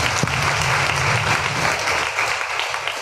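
A church congregation at an evening Hindi prayer gathering claps hands together in steady, dense applause that continues throughout, loud and close, with no talk over it.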